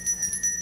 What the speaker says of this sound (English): The bell heard across the land on television.